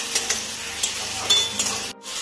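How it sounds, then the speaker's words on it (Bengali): Tomato and onion are stir-fried in a pan, a close, steady frying hiss under light scraping strokes that breaks off briefly near the end. "টমেটো পেঁয়াজ একসাথে নাড়াচাড়া করে ভেজে নেব"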